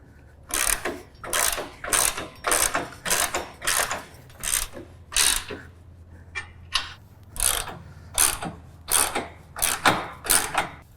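A ratchet wrench tightens bolts on a deluxe canopy being fitted to a John Deere Z735M ZTrak mower, with repeated sharp clicking bursts in an uneven rhythm, close and clear with no talking.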